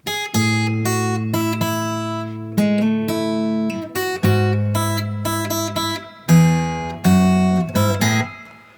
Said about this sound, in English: Today I'm using my Lava Me Play guitar.